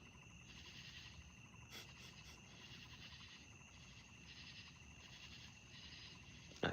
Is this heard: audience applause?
no